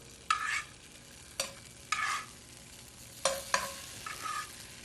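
Tofu pieces coated in paprika laid into preheated oil, each placement bringing a sharp tap and a quick burst of sizzling, five or so in an uneven sequence, close but fairly quiet, with no speech.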